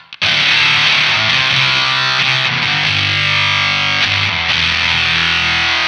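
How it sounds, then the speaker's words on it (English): Guitar played through a Jam Pedals Octaurus LTD octave fuzz with its mids scooped, a loud, dense and saturated tone that rings continuously after a brief silent start, with chords sustained and shifting. "The left side is actually a scoop, so you can scoop the mids on the signal a little bit"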